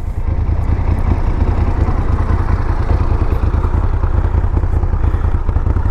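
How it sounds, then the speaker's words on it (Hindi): A Moto Guzzi California motorcycle idles loudly up close, its exhaust thumping in a rapid, even low rhythm with mechanical clatter over it, steady throughout. "मगर कोई बात नहीं, आपको एग्जॉस्ट नोट सुनाता हूँ।"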